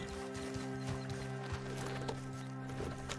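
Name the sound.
horse hooves clip-clopping in Red Dead Redemption 2 (video game)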